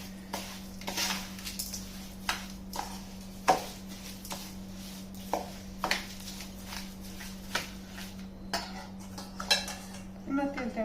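Spice mix for a raw mango pickle being stirred in a pot, with a spoon clinking and scraping against the metal in irregular close strokes over a low steady hum.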